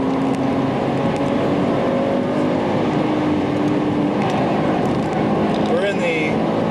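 German-specification BMW M5 with a 3.8 liter 340 horsepower engine and 6-speed transmission driving hard through the S-bends of the Nurburgring, a steady loud in-car engine drone throughout with a rising rev sweep near the end.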